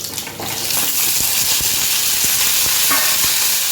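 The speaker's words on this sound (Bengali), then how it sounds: "এবার দিয়ে দেবো একটা শুকনো লঙ্কা আর পাঁচ ফোড়ন একটু ভাজা ভাজা হয়ে গেলে" A dried red chilli and panch phoron spice mix fry in hot mustard oil, a bright continuous sizzling hiss that swells after a quiet start, punctuated by sharp little pops and crackles.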